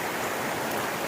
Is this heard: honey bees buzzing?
no